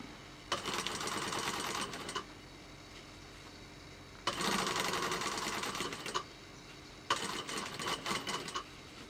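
A sewing machine stitching a fabric mask runs in three whirring bursts of rapid needle chatter, close and clear, separated by short quiet pauses.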